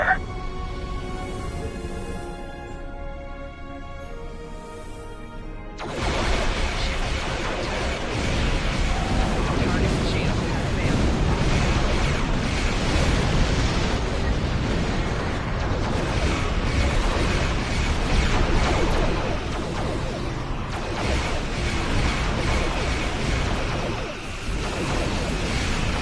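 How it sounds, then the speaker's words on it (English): Starship cannons fire and explode during a space battle in Star Trek Online, a dense, continuous roar of booms and blasts that swells loudly after a quieter, tonal opening. "Both cannons, fire!"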